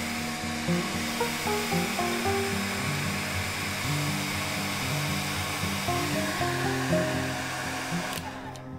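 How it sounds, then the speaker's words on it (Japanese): A hair dryer blows steadily on a freshly washed paintbrush used for watercolor pencils, a constant whirring drone with wavering tone that stops abruptly near the end; no voices. "使い終わったら筆はきれいにしてドライヤーで乾かします"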